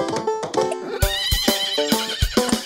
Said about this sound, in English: Clip-clop, clip-clop, a horsey sound.